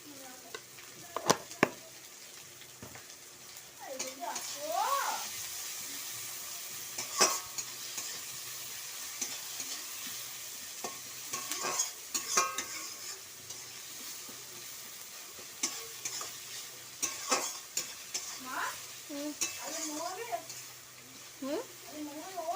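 Onion frying in oil with a little salt for a home-style dish, a steady bright sizzle under repeated scraping and stirring clatter, with a voice talking intermittently over it.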